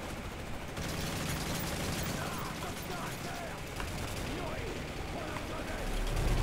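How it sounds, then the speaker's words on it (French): An enemy soldier fires at close quarters in Call of Duty Modern Warfare 3, sharp rapid shots crackling over a dense, muffled wash of battle noise that swells slightly toward the end. "il va nous tirer dessus, lui"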